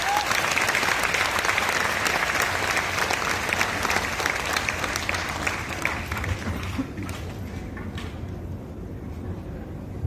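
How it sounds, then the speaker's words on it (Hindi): A crowd at a live demonstration of herbal sanitary napkins breaks into sustained, dense applause that stays loud and steady before thinning slightly toward the end. "तालियां आप बजा सकते हैं वैसे।"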